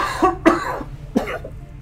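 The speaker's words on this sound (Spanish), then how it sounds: "Qué tos más tonta." Two or three sharp coughs in close succession, then a third after a short pause, close and fairly loud over a faint steady background hum.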